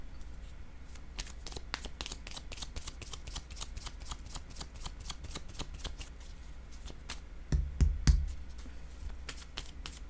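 Tarot cards shuffled by hand in quick, crisp riffling bursts, a steady run of close, faint flicks with a slightly heavier thump of the deck near the end, no voices.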